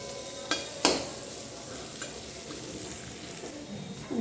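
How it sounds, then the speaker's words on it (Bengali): Food frying in a pan gives a quiet, even sizzle, with two crisp spatula clicks early on and faint stirring scrapes afterward. "একটু নেড়ে দিই"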